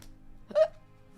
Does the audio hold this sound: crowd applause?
no